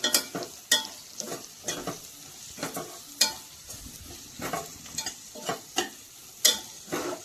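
Spring onion greens frying in spicy green chili thecha in a pan, a steady soft sizzle broken by regular scraping stirs of a spoon, close and clear with no talking.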